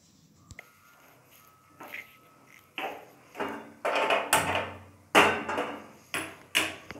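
An electric grinder blending cashews and almonds starts after a few soft knocks, then runs in a series of loud, harsh bursts, each cut off by a short pause.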